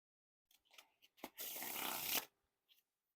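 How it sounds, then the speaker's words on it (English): Bicycle Amplified playing cards are handled quietly, with a few soft taps and slides followed by a smooth, continuous ripple of about a second as the deck is spread into a wide fan, close and fairly loud against silence. "Now time for a giant fan of the faces."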